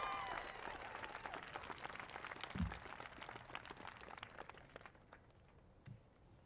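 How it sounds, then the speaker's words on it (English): Audience clapping at a high school graduation ceremony, a continuous round of applause that is fairly faint and distant and slowly fades away over the final seconds. "Can we please give them a round of applause?"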